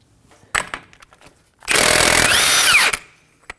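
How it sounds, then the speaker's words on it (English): An impact or power tool works a 32mm socket on the front axle nut of a 2016-2020 Kia Sorento 2.4L: a short burst, then a loud, sustained whir of about one and a half seconds, close up with no talking. "Using a 32mm socket, we're gonna go ahead and remove the axle nut."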